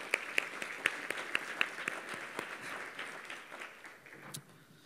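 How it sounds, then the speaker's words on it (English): Scattered applause from a modest crowd, moderately distant, fading out over a few seconds. "let's give them a round of applause as well"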